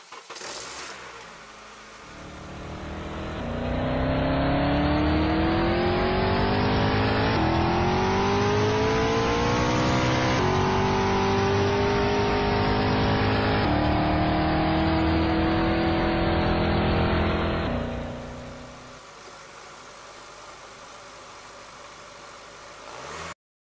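Car engine in Unreal Engine 5 blending from idle into higher RPM, a steady hum rising smoothly in pitch over many seconds, holding loud, then easing back down toward idle, with no talk.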